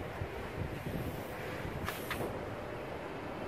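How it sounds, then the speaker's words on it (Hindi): Cool night wind blows steadily at about nine in the evening, a soft, even rush of air with no voices. "ठंडी हवा चल रही है"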